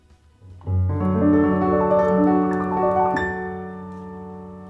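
A Roland digital piano set to a mellow tone plays a soft chord phrase over a sustained low bass, the notes rounded and dark, fading gently at the end.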